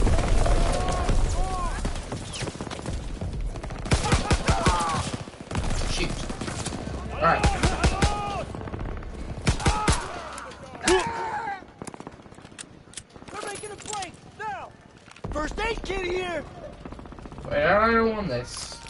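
Gunfire in a Call of Duty zombies game, with bursts of rapid shots and single cracks scattered through the stretch, mixed with game noise and someone talking over parts of it.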